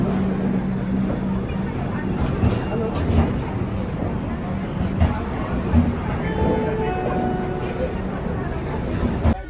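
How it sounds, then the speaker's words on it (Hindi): A passenger train on the Raipur to Puri line pulls through a station with a continuous low rumble and rattle, while nearby voices talk over it. "हम लोग की ट्रेन आ गई।"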